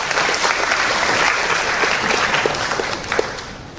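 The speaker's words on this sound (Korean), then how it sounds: "이때 박수 한번 쳐야 돼요." Lecture-hall audience breaks into steady applause for a talk on economics and information asymmetry, a dense wash of many hands clapping that holds loud throughout and fades slightly near the end.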